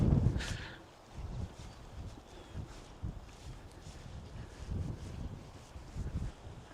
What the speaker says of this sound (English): Really windy. It's blowing a gale, so I hope the mics are cutting the wind noise out